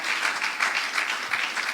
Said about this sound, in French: clap, give a hand clap offering